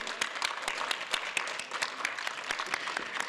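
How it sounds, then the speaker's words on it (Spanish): An audience at a talk on Haiti and the Dominican Republic gives a round of applause for Luciano Aguilar. Many hands clap together in a moderate, sustained patter, heard from a short distance. "Yo pido un aplauso para Luciano."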